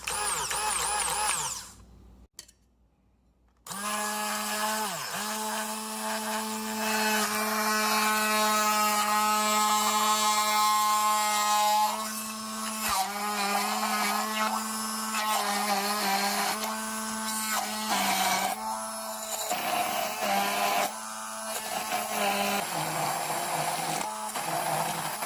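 ALLKEYS 500W immersion hand blender whirring as it purees carrots in water in a measuring beaker, a loud steady motor whine after a brief pause, then shifting pitch as the blade works, close and alone.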